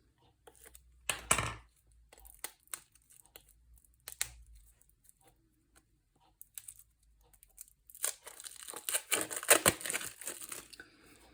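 A Stampin' Up craft product package is unwrapped by hand, with scattered crinkles and tearing of plastic and paper wrap, quiet at first, then a louder, denser rustling burst near the end.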